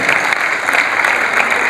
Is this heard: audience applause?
yes